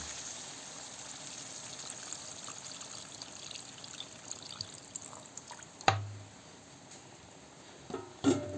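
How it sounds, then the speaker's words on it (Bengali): Water is poured into meat cooking in a pot, a faint trickling and bubbling under a low background, broken by a sharper splash or clatter near the middle and another toward the end. "জল দেব দেখতে থাকুন জল দিচ্ছি আমি কিন্তু মাংসই জল দিয়ে দিলাম"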